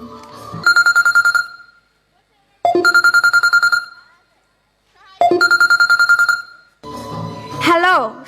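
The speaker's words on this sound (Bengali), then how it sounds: "ঠিক আছে, এক্ষুনি আমি সুমনের কাছে ফোন করছি।" A phone rings in repeated electronic bursts, three loud ring tones separated by short silences, followed by a brief warbling tone, with no talk over it.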